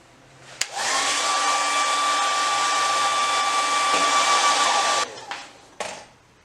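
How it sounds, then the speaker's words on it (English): A handheld blow dryer roars steadily at close range for about four seconds while heating a car emblem to soften its adhesive, then cuts off, followed by a couple of brief handling knocks. "Then you're going to grab a blow dryer, and you're going to heat it up."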